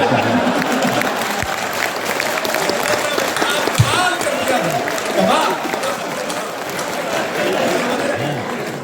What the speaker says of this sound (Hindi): ये 10-15 लोग ताली बजा रहे हो